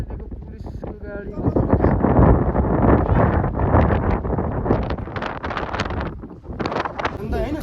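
Cold wind in Upper Mustang, Nepal, buffeting the microphone in a steady, loud, rumbling roar that swells and eases, with a voice faintly underneath.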